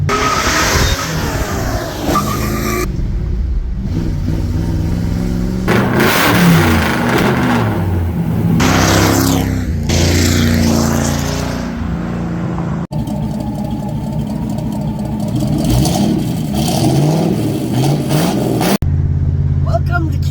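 Car engine hum and road rumble while driving toward Great Bend, Kansas, steady and close throughout with shifts in pitch and some voices over it.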